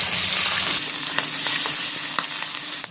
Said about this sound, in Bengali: আমি এবার অন্য সাইডে ভেজে নেবো।